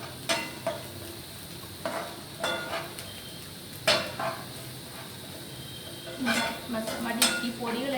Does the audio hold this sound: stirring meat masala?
yes